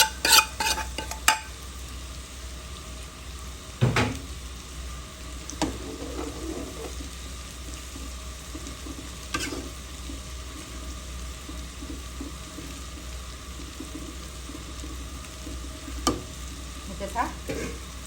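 Knife fish (churi) fries in a pan with a steady close sizzle, broken by a few clinks and scrapes of a utensil.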